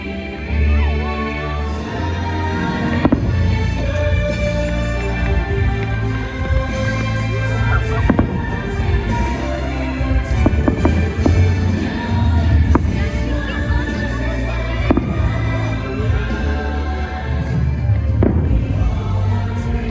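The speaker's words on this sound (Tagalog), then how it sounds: "Fireworks?" Booming fireworks burst repeatedly over a loud, busy crowd din at Tokyo Disneyland at Christmas, with sharp cracks and thuds scattered throughout.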